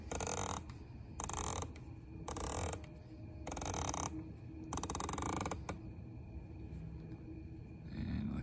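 An Arken Optics EP-4 rifle scope turret is dialed up 10 mil, giving several bursts of rapid, crisp ratcheting clicks, close and distinct, separated by short pauses.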